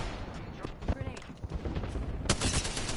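Apex Legends gunfire crackles in rapid bursts with sharp shots mixed into dense game noise, while a person talks over it.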